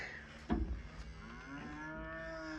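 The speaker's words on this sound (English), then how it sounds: "I don't know why the cows are mooing." Cattle moo nearby, a couple of long, low drawn-out calls over a soft background hum, with a thump near the start.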